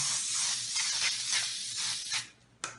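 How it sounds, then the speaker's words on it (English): Cooking spray hisses onto a jelly roll pan in several short, close bursts, one after another, ending with a final quick spritz. "Make sure you spray your jelly roll pan."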